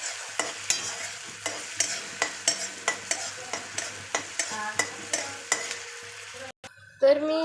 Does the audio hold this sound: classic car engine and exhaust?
no